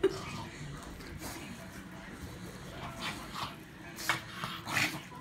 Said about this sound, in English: I'm having fun videoing the doggies eating their popcorn